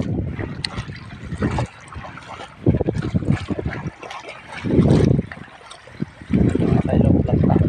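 Small fishing boat on open water at sea: gusty wind buffets the microphone in surges while water sloshes and trickles nearby, loud bursts alternating with quieter lulls, no clear talk.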